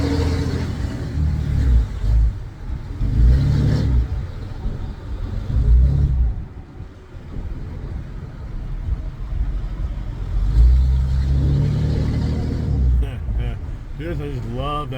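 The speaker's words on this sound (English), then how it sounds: "Here comes the big diesel truck through town." A big black Ram Mega Cab diesel truck rumbles through town, its engine swelling in loud surges and fading between them. Someone talks over the sound.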